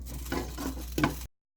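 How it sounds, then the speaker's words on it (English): Halved, sliced onions caramelizing in a pan give a soft, close sizzle with a few stirring scrapes over about a second before cutting to silence. "we are starting to caramelize our onions here"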